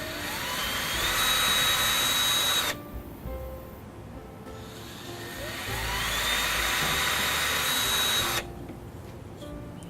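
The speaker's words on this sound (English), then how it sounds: "I'm just going to take a drill and get me a couple of starting points to put the blade in." An electric drill whines in two bursts, spinning up and boring small starter holes through wood for a scroll saw blade, each run lasting a few seconds with quieter motor hum in between.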